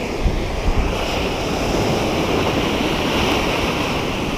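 Waves wash steadily onto a sandy beach, a broad, continuous rushing surf with a few soft thumps near the start, heard alone with wind noise against the microphone and no voices.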